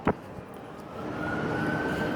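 A police cruiser siren rises into a steady wail that sounds somewhat distant, following a short thump at the start.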